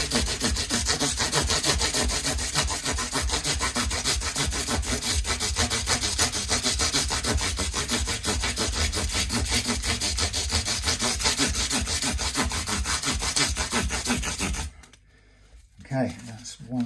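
A foam block wrapped in 400 grit paper is rubbed back and forth over guitar frets in fast, steady scratchy strokes. The sanding is close and continuous, then stops abruptly near the end, leaving quieter rustling.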